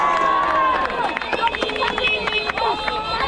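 Loud crowd of boys whooping, yelling and cheering at a riding event, a dense continuous roar of many overlapping voices with sharp shouts rising throughout.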